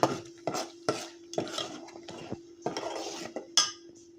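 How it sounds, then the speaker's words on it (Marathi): Masala spices for Satara-style kat vada roasting in a pan, with a spoon scraping and stirring in repeated metallic clinks and scrapes, close and fairly loud, no voices. "आता हा मसाला मस्त भाजून घेऊया"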